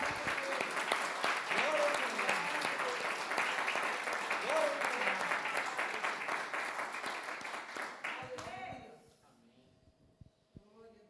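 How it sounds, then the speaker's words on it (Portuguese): A church congregation claps together in sustained, dense applause that fills most of the stretch, then tapers off into a few scattered claps and quiet near the end. "vamos aplaudir Jesus?"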